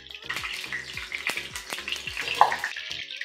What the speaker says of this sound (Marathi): तर आपली ही मेथी खुळखुळ असा आवाज येते, तळून तयार आहे